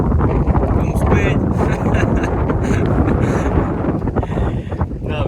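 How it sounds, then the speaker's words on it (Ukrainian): Heavy wind buffets the microphone at a lakeside fishing spot in Boholiuby in a constant low roar with gusty rumbling throughout, nearly drowning everything else. "Ну друзі, вітер."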